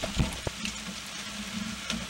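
Bread dough deep frying in oil over an alcohol stove aboard a 21-foot boat on a cold, rainy day, a close, steady sizzle with a few soft clinks and bumps from the pan.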